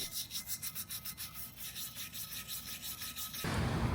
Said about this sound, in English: we got a lot of rust spots on the bars, the tow hitch. So trying to sand them down a little bit